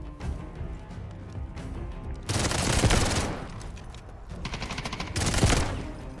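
G18 pistol fire in a video game, with two long loud full-auto bursts of rapid shots ringing over low ambient game sound, separated by a short pause.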